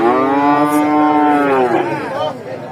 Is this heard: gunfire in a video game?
no